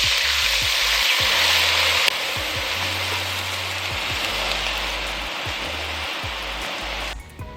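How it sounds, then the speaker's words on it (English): A pot of browned beef deglazed with cherry wine sizzles loudly and steadily, with a dense frying hiss that carries on throughout and drops slightly near the end. "After cooking all your beef, go ahead and deglaze the pot with some cherry wine"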